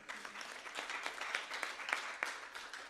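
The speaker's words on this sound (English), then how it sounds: "Un grand applaudissement." An audience at a conference session with interpreters applauds in a faint, steady patter of clapping, heard from a distance in a large room.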